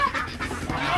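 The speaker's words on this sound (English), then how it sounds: "Okay, so there goes the geese." Geese honk loudly and close by as they rush out of a poultry coop, several overlapping nasal calls in quick succession.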